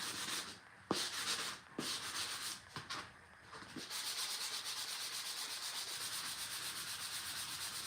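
Sandpaper rubs against small wooden phone-stand pieces in uneven strokes at first, then settles into a fast, steady back-and-forth scraping, close and fairly quiet.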